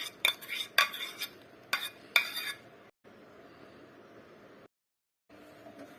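Golden caramelized sugar scraped out of a pan into a bowl, with a few sharp metallic clinks and scrapes at the start, then quieter rustling and a short silence.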